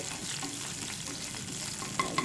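Mustard seeds, cumin and curry leaves crackle and sizzle in hot oil for a tempering, a steady fine frying hiss with a few sharper pops near the end, close by and with no talking.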